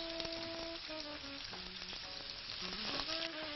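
Onion sautéing in a pan for a skate dish with pepper sauce: a steady close sizzle with scattered crackles and stirring, with soft tonal music running underneath.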